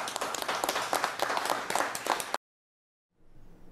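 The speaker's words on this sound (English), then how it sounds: "And met with applause" Applause after a press conference answer by Canada's finance minister Freeland: dense clapping from a room audience for about two seconds, then a sudden cut to silence before a quieter stretch of background noise.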